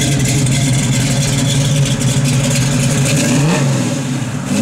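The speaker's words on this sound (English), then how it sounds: "Give it a little rev, Eddie." A 1969 Chevrolet Camaro SS engine runs close and loud, with a rumbling idle that rises briefly in revs and then settles back, steady throughout without voices.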